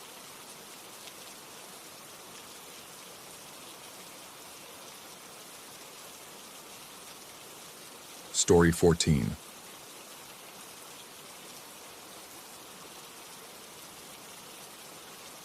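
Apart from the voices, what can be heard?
rain falling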